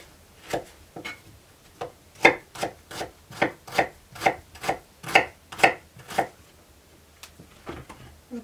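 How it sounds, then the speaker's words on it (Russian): A knife slices onion into half rings on a wooden board in a quick run of about a dozen crisp strokes, close by and alone. "Все сначала нарезаем лук,"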